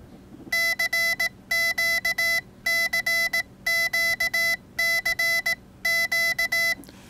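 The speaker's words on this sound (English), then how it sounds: "I'm going to put my microphone very close to the Hamgadgets keyer so you can hear exactly what it sounds like as I work the key." Rapid CW Morse code beeps from a Hamgadgets PicoKeyer-Plus keyer kit, crisp electronic tones in grouped bursts of dots and dashes, recorded very close and loud over a faint background hum.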